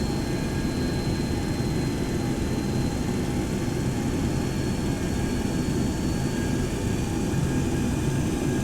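Boeing 727-100 jet engines in a flight simulator game, a loud, steady broadband roar with a faint high whine held unbroken throughout, close and constant with no talk.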